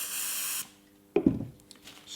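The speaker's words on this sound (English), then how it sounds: "and that can just be sprayed onto the end of the gun" Gluecifer glue-gun cleaner sprayed from an aerosol can onto the end of a glue gun used for artificial grass glue: one steady, close hiss lasting about half a second, then quieter handling clatter.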